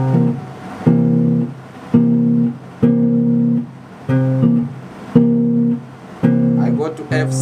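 A bass guitar plays a 12-bar blues chord progression in C, ringing chords repeated in steady blocks with short breaks between changes, close and clear with no voices.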